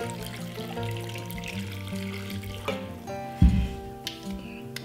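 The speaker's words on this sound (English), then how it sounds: "I'm just gonna pour it over the cucumbers and the dill" Cooled brine is poured over cucumbers and dill in a jar, a steady close-up trickle and splash of liquid running for several seconds with a brief heavier gurgle near the end.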